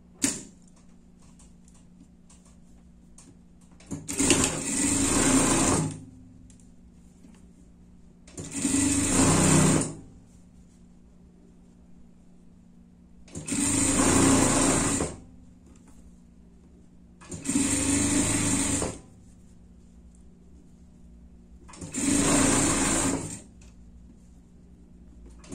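Sewing machine stitching a safety seam on pet clothing, running in five separate bursts of about two seconds each with pauses between, a steady mechanical whirr close by, no talking.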